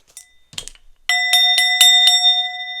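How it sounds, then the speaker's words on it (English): A small bell rings in a series of bright, sustained strikes with a clear ringing tone and lingering overlap, following a few brief rustles and taps at the start, heard alone with no talk. "Where's my bell?"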